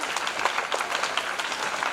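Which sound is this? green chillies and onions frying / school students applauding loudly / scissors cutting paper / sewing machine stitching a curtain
school students applauding loudly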